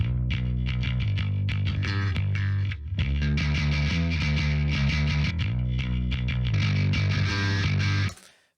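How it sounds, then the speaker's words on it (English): A distorted bass guitar plays alone, thick and gritty, with steady driving notes, a brief dip in the middle, then continuing loud until it cuts off. "So now let's solo the bass and see what it's doing by itself."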